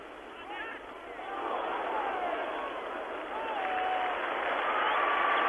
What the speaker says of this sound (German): Erster Beifall für diesen Kopfstoß von Klaus Fischer